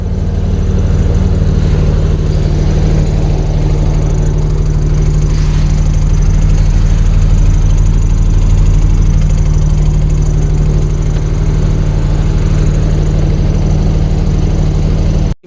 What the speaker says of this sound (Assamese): একবাৰ ডিজিটো আপোনাক চাউণ্ডো শুনাই দিওঁ